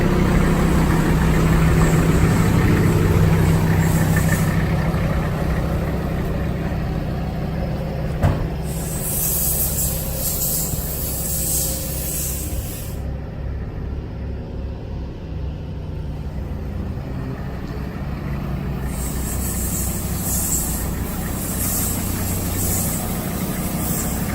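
A 1991 Toyota Land Cruiser PZJ77 runs steadily as it is moved outside, a continuous low engine drone heard close and loud throughout with no talking.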